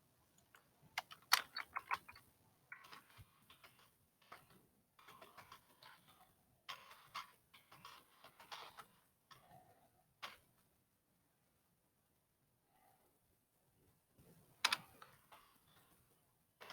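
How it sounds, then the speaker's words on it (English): Keys on a computer keyboard are typed in short, quiet bursts of close clicking, separated by silent pauses in a still room. "I'll type it in chat"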